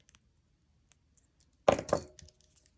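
Jewelry wire for black sparkle earrings is snipped with cutters: a couple of sharp metallic clicks close up, surrounded by faint handling ticks in a quiet room.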